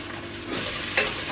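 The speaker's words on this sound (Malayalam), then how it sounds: "സവോള നല്ല മൂപ്പിച്ചെടുക്കാം" Sliced onions fry and get stirred in a pan that already holds ginger, garlic and curry leaves, for a Kerala chicken roast. A constant close sizzle runs throughout, with a brief scrape of the spoon near the end and no talking.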